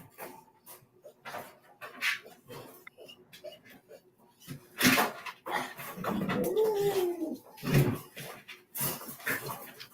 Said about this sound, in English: He's a good looking dog too.